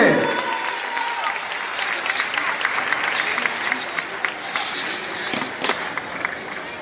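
A crowd at a campaign rally closing event for a municipal candidate applauds loudly and continuously, with scattered shouts and voices mixed into the clapping.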